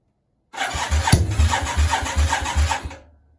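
A Yamaha Virago 535 motorcycle on choke cranks and catches, then runs for a few seconds with a loud, close, evenly pulsing engine beat before cutting out abruptly.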